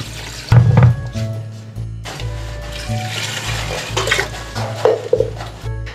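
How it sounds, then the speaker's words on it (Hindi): Water splashes and gurgles into a cooking pot of mutton bone curry, about two litres, starting with a loud pour and continuing as an uneven stream with some clunks. "हम इसमें पानी ऐड कर रहे हैं।"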